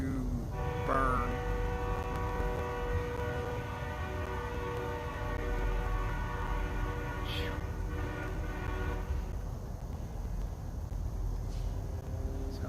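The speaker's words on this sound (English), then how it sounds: "Sounds like a damn train stuck on the siding or something" Freight train idling on a rail siding, a steady low rumble with sustained horn-like tonal bands layered over it, persisting throughout and fairly loud and near, with voices and background activity mixed in.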